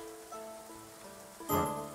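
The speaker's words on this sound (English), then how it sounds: "And it's been raining nonstop." Steady rain falls in the medieval colony-building game Going Medieval, a soft continuous patter under a faint music bed, with a brief brighter swell of sound near the end.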